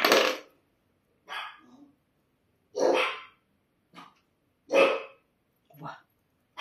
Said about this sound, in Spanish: Perdonad a mis perros, ¿vale? Están en plan ladrando todo el rato, todo el rato.